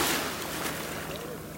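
Ocean waves washing at a beach in North Naples, Florida, a continuous close wash of surf with hissing spray, fairly loud throughout and gradually easing.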